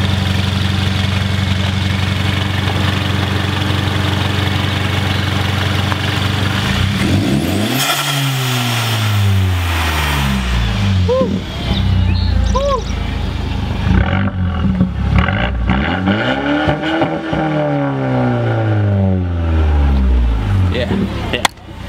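A stock Mercedes CLA fitted with a blow-off valve sits idling, then revs hard twice with rising and falling engine sweeps and short valve chirps between them. The car is loud and close, with a voice briefly audible.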